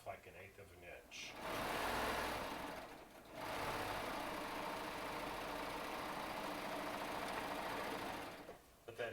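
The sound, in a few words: serger sewing fabric squares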